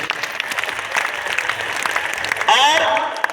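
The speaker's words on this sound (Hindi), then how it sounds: "दोनों हाथ उठा के ताली तो बजा सकते हो ना इनके लिए" Crowd applause rings out at a Bageshwar Dham mass wedding for 300 brides, a steady dense patter of clapping that carries on beneath someone speaking loudly over a microphone.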